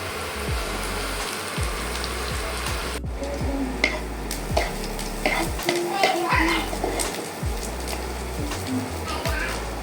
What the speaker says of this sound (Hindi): यहाँ पे प्याज ये सब भून रहे हैं।